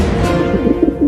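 Pigeon cooing at close range, a low, throaty coo that runs steadily through the whole short moment with soft pulsing swells and no voices.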